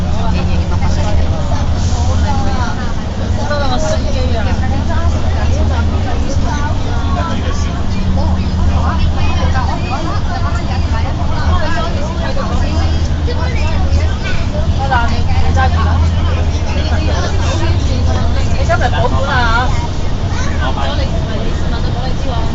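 Steady low engine drone and rumbling road noise aboard the upper deck of a Hong Kong double-decker bus tram in motion, with passengers' chatter and babble running throughout.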